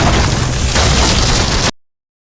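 A deadly weapon shooting down trees in a forest: a loud, sustained roar of blasts and crackling bursts that fills the whole stretch, then cuts off abruptly into silence.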